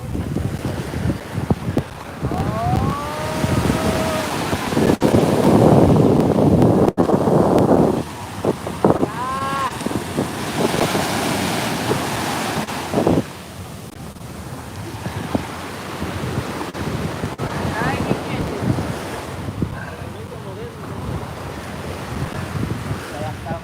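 Ocean surf washes steadily at Coney Island beach in New York while strong wind buffets the microphone during a walk along the shore. Faint voices drift in the background now and then.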